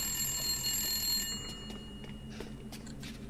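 A telephone rings in Resident Evil Village, its steady electronic tones holding over a low ambient hum for the first second and a half, then fading out and leaving only the quiet background.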